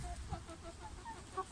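Chickens and roosters clucking close by in a backyard flock, soft repeated low clucks and murmurs over a faint background hum.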